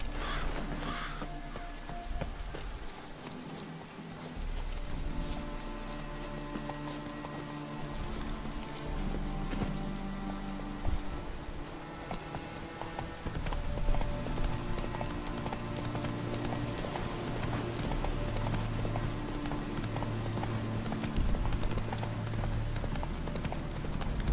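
Roach, the horse in the video game The Witcher 3, galloping with steady, rapid clip-clop hoofbeats over a faint background of game sounds, continuing throughout.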